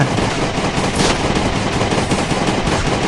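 Gunfire from the Last Day on Earth video game crackles in a dense, continuous automatic burst, loud and close, running through the whole stretch without a break.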